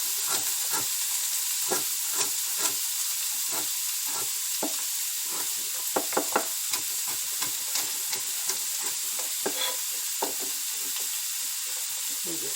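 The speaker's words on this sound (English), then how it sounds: "I'm going to let those saute a little bit." Vegetables for potato soup saute in a pot with a soft, steady sizzle and hiss, broken by light irregular stirring taps and clinks.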